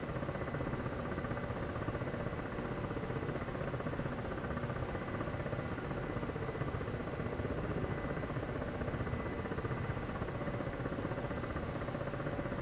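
A Ka-50 attack helicopter in the DCS combat flight simulator game gives a steady, quiet engine and rotor drone that holds unchanged throughout, with no talking.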